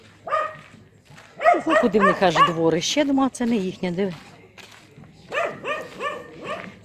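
Dogs bark and yip outdoors near village yards, mixed in with someone talking. Short bursts of barking rise and fall under and between her speech.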